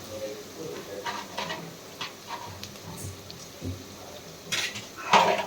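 Ginger and cashews frying in a pan, giving a faint sizzle under intermittent scraping and clinks from a stirring utensil against the pan.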